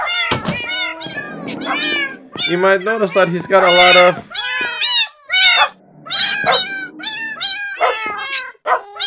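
Parrots in Minecraft imitating cat meows, a rapid series of loud, close, repeated mewing calls of varying pitch, layered over someone talking throughout.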